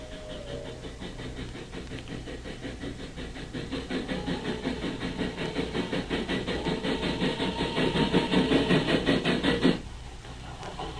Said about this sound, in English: There's the first train. Just hitting the grade.